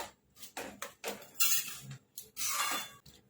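Spoon scraping and clinking in a pan as masala is stirred into pav bhaji, in irregular bursts of metallic scraping, close and moderately loud with no talk.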